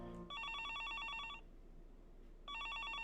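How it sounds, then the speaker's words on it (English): An electronic telephone in Higurashi When They Cry rings in two bursts of rapid warbling trills with a short gap between them, clear and fairly loud over a quiet background. "The sound of the phone made me jump."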